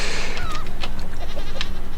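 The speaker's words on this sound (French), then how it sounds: "Voilà, les chèvres." Goats in the survival game Raft bleat in several short, wavering calls over steady game ambience, fairly close and clear with no talking.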